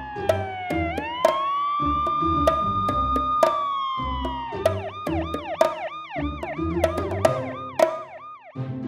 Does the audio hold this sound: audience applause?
no